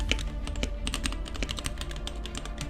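Rapid, even typing on a modded GamaKay Womier K87 mechanical keyboard, close and clear, each keystroke a deeper, fuller thock in a continuous run with no voices.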